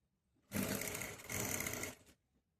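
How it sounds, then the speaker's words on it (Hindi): A sewing machine runs in one short, steady burst of just over a second while stitching a salwar belt, whirring close and fairly quiet against a hushed room. "इसको हम ऐसे रखकर सिलाई लगा रहे हैं"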